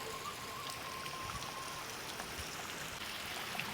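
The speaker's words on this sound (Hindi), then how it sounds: "ये इधर ऊपर से देखो पानी आ रहा है और सारा इधर नीचे की ओर जो भी इन्होंने वाटर चैनल बना रखा है उसमें जा रहा है पानी।" Water runs steadily down an irrigation channel at the Tegallalang rice terraces near Ubud, Bali, a broad, even outdoor wash that continues without a break.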